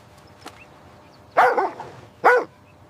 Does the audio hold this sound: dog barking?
yes